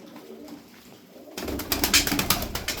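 Arab breed tumbler pigeons coo in a loft, a soft, close, steady run of bird calls that starts after a second of near silence and continues without any talk.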